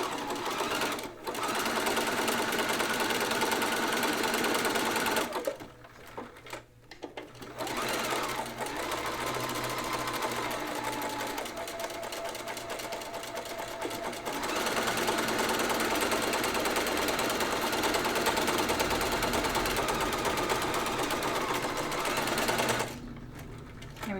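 A home sewing machine stitches a row of buttonholes on a dress, running in fast steady bursts of rapid mechanical chatter with brief pauses between, up close and alone.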